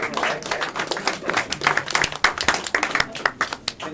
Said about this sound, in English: A huge round of applause for all our panelists.